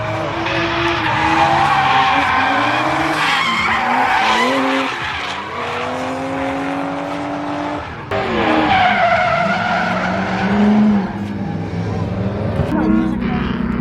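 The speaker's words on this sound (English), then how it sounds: "I'm probably just gonna record some people drifting" Tires screech and squeal continuously as a car drifts at a drift event in Las Vegas, the engine roaring and revving loudly throughout with shifting, wailing pitch.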